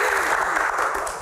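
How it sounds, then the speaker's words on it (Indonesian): A live audience at an Indonesian talk-show Q&A session claps in a brief, dense burst of applause, steady and fairly loud throughout. "terima kasih, tepuk tangan buat Mas Haris"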